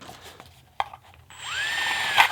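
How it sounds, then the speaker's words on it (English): A power drill bores through a double-lined McDonald's paper cup, first light handling knocks, then the motor spins up into a steady rising whine with a brief grinding scrape near the end. "You drill through the cup, having your drill bit come out the end"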